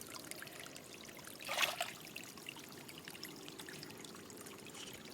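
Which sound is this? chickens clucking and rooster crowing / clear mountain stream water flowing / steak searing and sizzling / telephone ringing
clear mountain stream water flowing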